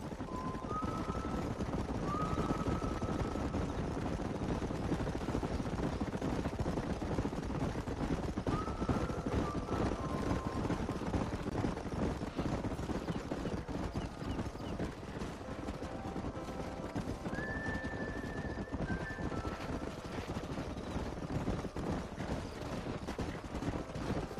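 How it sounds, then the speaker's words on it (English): Horses gallop through a canyon in the video game Red Dead Redemption, a dense, continuous clatter of hooves that goes on without a break under loud background game noise. "don't let those horses out of your sight"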